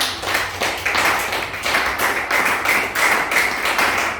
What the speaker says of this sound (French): Je voudrais que tu allais applaudir pour le Seigneur.